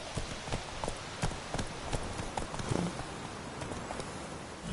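Roach the horse from The Witcher 3 gallops with a steady run of rapid hoof clip-clops, moderately loud and continuous throughout, with no talking.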